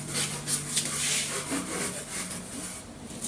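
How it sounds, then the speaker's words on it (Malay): A tool scrapes old plaster on a wall in steady back-and-forth strokes, a close, gritty rasping that runs continuously without talk. "Jadi sebab tu kenapa kita kena kikis supaya dia samalah."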